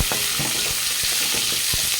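Onions frying in hot oil in a pan, a dense steady sizzle close up, punctuated by repeated soft thuds and scrapes of stirring, no speech.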